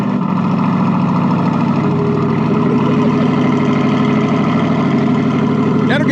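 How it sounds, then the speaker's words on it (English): A 2023 Corvette sits idling with a deep, steady exhaust rumble, loud and close, with a voice briefly heard over it. "You got to hear your exhaust."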